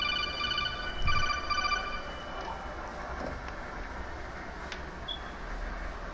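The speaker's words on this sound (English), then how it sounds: "So my phone ringing." A phone rings with a bright electronic tone that pulses for about two seconds, then stops. Steady background noise runs underneath.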